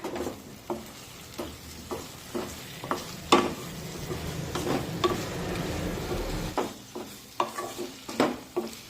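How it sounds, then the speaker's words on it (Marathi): Potato pieces being stirred into cooked spice masala in a pan for a potato rassa curry, close scraping stirs in an irregular rhythm over a soft sizzle, with occasional sharper clicks of the spoon. "आणि आता यामध्ये या बटाट्याच्या फोडी टाकूया। मिक्स करून घेऊया।"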